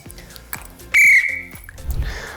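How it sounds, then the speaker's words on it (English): A rugby referee's whistle blown once, a loud piercing blast of about a quarter second, close by, with quiet handling noises before and after. "My whistle is much easier to blow."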